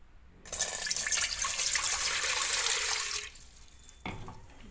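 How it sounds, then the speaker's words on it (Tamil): A cup of water is poured into an idli cooker pot, a steady splashing rush for about three seconds, then a brief second splash, close and fairly quiet with no talk. "இட்லி குண்டான வச்சுட்டோம் நம்ம ஒரு கப்பு தண்ணி ஊற்றிக்கிறேன்"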